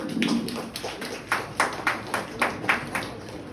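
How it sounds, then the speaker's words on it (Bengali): Scattered hand claps from a small audience greet a poet at a literary magazine launch ceremony. The claps come as irregular sharp bursts, fairly close, with some murmuring underneath. "সকলে একটু করতালি দেবেন।"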